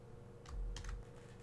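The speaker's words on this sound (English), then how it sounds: "So in the same command prompt window, type in gam create project." A few quick keystrokes on a computer keyboard while a command is entered in a command prompt window, soft and close over a steady low hum, with no voices.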